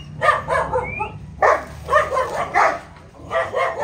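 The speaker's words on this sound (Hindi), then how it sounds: "देखियो जर्मन शेफर्ड पूरा ग्रोथ छै कर" An eight-month-old German shepherd dog barking close by in a series of loud, rough barks, with short pauses between bursts.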